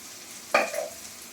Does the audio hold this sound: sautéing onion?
yes